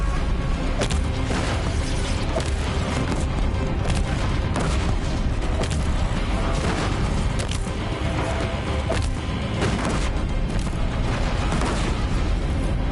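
Bomb explosions in the video game Horizon Zero Dawn, a dense, loud barrage of booming blasts that roll continuously one into the next without pause.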